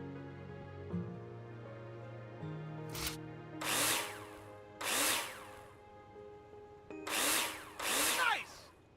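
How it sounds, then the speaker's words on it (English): A video game power drill whirs in five short bursts, each rising in pitch as it drives a screw into a wall, separated by brief pauses over a steady background hum. "Take your drill out and screw them in."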